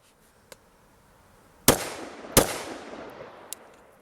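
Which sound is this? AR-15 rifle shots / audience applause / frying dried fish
AR-15 rifle shots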